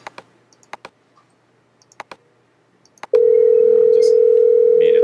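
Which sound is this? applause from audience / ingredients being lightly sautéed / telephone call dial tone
telephone call dial tone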